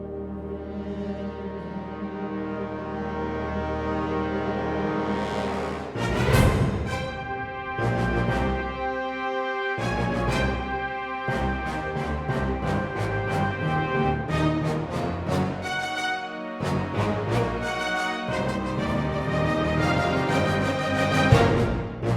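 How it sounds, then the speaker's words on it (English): Orchestral strings and French horns play a theme park ride score together, swelling sustained chords and brassy phrases with a few short breaks, moderately loud and with no voices. "These are just the strings and the horns now."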